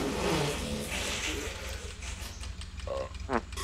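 A car engine in the video game The Long Drive hums and revs unevenly under background noise, with a few short tonal chirps near the end and faint talk mixed in.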